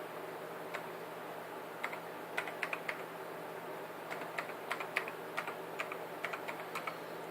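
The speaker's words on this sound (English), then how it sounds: "Ah, nice clicky keyboard." Typing on a clicky computer keyboard from the early 2000s, a close, fairly quiet patter of crisp key clicks in irregular bursts with short pauses, over faint steady background hum.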